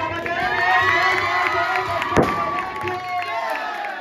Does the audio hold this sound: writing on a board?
no